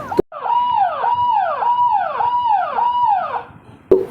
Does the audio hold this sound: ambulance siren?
yes